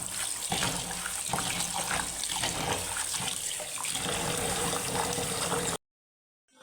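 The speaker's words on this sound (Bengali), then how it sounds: "এখন এই যে মুগের ডালটা ধুয়ে নিব" Mung dal being washed under a running tap: a steady, close rush of water splashing into a vessel that continues evenly and then cuts off abruptly near the end.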